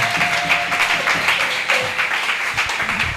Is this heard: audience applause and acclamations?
yes